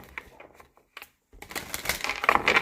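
Tarot cards shuffled by hand, a few soft riffles at first, then a brief pause, then a denser, louder run of papery flutters and snaps, close up.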